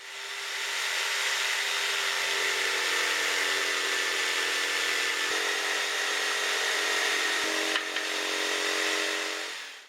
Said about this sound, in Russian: После нанесения контура можно выпилить днище, используя электрический лобзик.